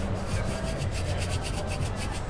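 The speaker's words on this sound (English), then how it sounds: "So I'm going to just ream this out just a skosh more." A hand reamer scrapes steadily inside a graphite fishing rod grip, a continuous close rasping rub with a quick back-and-forth rhythm and no talking.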